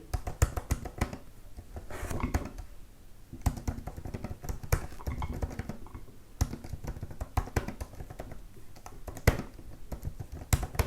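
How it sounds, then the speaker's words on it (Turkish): Rapid typing on a MacBook Pro keyboard, a dense patter of light key clicks in bursts with short pauses, close and fairly quiet. "Klavye sesi de bu şekilde arkadaşlar."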